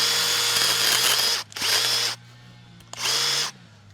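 A power tool saw cutting dense, hard plum wood, buzzing loudly in three separate bursts with short pauses between, a low motor hum continuing underneath during the gaps.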